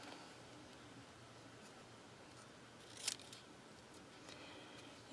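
Scissors make a single crisp snip partway through, trimming paper card stock into a thin banner for a handmade Best Witches card; otherwise near-silence with faint room hiss.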